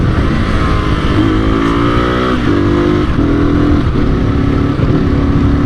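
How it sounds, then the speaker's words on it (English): A 1981 Yamaha XT250 motorcycle engine is heard close up, revving as it climbs up through the gears and back down, with stepped rises in pitch at each shift, loud and steady throughout. "all through the gears and all the way down again"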